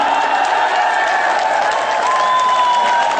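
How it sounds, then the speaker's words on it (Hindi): An audience at a political speech claps continuously in a dense, steady wash of applause, with a few faint voices and a sustained tone running through it. "और तालियां आपने पहले ही बजा दी"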